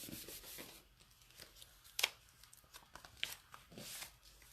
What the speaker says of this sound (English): And then close our envelope.